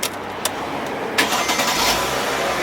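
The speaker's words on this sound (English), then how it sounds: "plug in your battery and turn on your car" Engine of a Mercedes CLK (W209/C209) cranking and starting, with a sharp click and whir followed by a steady, close idle rumble; no one talks.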